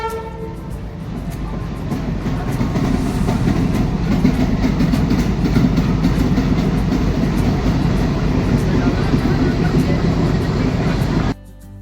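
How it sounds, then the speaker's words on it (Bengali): A passenger train on a Howrah to Guwahati run pulls into Bardhaman station with a loud, steady rolling rumble and rattle of wagons heard from on board, then cuts off abruptly at the end. "মাত্র ঢুকলাম বর্ধমান স্টেশনে"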